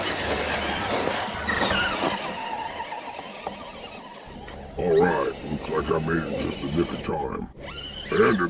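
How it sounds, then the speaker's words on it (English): A saber-toothed tiger roars in a snowy driving video game, its growling roar rising over a continuous engine and tire noise, with the loudest snarls toward the middle and end. "Ah, saber-toothed tiger."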